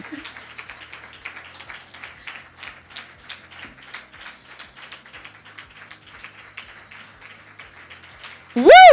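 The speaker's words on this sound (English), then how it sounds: "Yeah, we are still clapping." Audience applause at a summit fireside chat in Rwanda, a sparse, steady patter of many hands clapping that runs for several seconds at moderate distance, then ends in a sudden loud whoop or voice burst.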